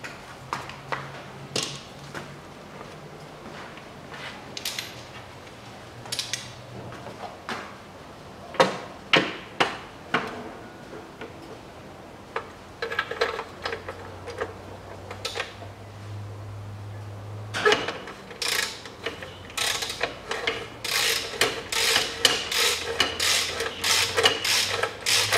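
Socket wrench loosening cylinder head bolts on a Peugeot 407 1.8 with a snapped timing belt, heard as scattered sharp metallic clicks and ratcheting bursts at close range, denser toward the end, with no talking.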